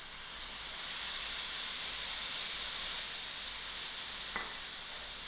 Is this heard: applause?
no